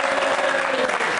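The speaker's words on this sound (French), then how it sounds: "sous un tonnerre d'applaudissements" Audience applause rings out at a televised studio show as a presenter welcomes guests onto the stage, a steady dense clapping that fills the room with no pauses.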